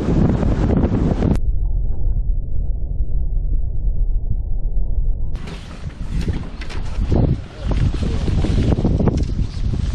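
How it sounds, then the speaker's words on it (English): Strong wind buffeting the microphone on a boat on the Detroit River during fall smallmouth bass fishing, a loud continuous roar that briefly drops to a lower rumble before surging back in broadband gusts. "The weather today stinks. We got massive wind coming."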